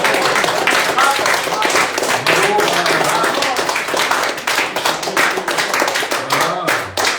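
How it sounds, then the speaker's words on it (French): Audience claps loudly after a piano recital in Strasbourg, a close, dense burst of many hands that keeps going steadily, with voices and faint cheering mixed in underneath. "faire l'applaudissement"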